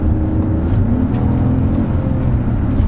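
An Audi A8 with a 6.0-litre W12 engine revs steadily under load while accelerating, a loud continuous low rumble heard from close by with no pauses.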